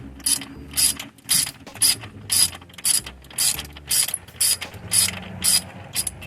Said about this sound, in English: It's a deep socket, 13 millimeter.